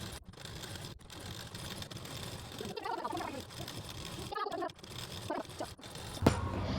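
An electric sewing machine stitches piping strip onto a blouse neckline, humming in a steady close whir that slows and pauses briefly a few times.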